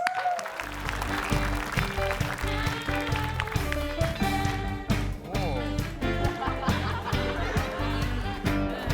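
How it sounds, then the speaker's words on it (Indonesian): Studio audience applauding as host Feni Rose is welcomed onto a talk show set, a broad clapping wash mixed with music and bright tones, steady and moderately loud throughout. "Kita beri tepuk tangan yang meriah untuk Feni Rose."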